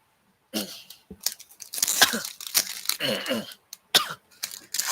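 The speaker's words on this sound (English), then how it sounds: "I've got coughing issues" A burst of harsh, rough coughing up close, several hacking coughs in quick irregular succession with brief gaps between.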